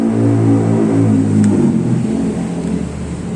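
A Honda Sonic 150R sport motorcycle engine revs close up, a loud steady harmonic drone that eases slightly near the end.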